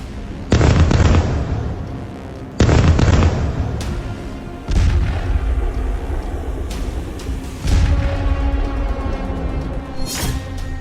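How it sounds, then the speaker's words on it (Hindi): A Russian D-30 howitzer fires near Zaporozhye, sending loud booming blasts at intervals of a couple of seconds, each followed by a long rumbling roll and scattered distant cracks. "ज़ापोरोज़े में रूसी D-30 होइट्ज़र से तबाही।"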